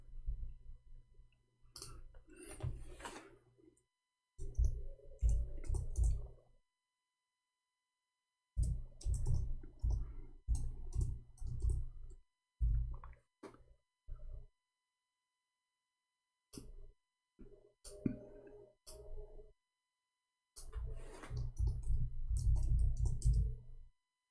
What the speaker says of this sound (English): No, I'm typing, hold on.